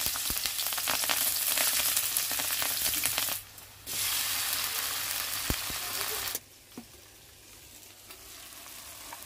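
Onion, garlic, green chilli and ground cumin, coriander and turmeric fry in hot oil, giving a loud, steady sizzle and crackle that drops sharply twice. A brief quiet stir sits near the middle.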